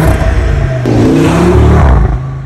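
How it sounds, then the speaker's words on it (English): An Audi RS3 revs hard through its large exhaust tips, a loud close roar that climbs in pitch and holds before dropping away. "these massive exhaust tips that sound."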